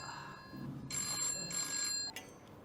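A telephone bell rings in two bursts of bright, metallic trilling, each lasting about half a second. The rings are moderately close over a quiet room background, with no speech.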